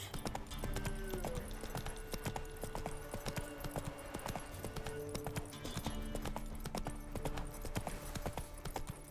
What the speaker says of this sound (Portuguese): Só andar a cavalo nesse mundo esperando acontecer alguma coisa